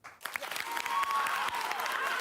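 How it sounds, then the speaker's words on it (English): An audience claps together in a sustained round of applause, loud and steady throughout, with some voices mixed in. "Clap if you think that she should trick him."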